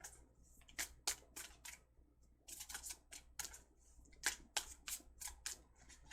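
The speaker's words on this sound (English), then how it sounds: "Give me a sec, I'm going to do a shuffle." Tarot cards shuffled close up in quick riffling bursts separated by short pauses, crisp papery flutters with no talking.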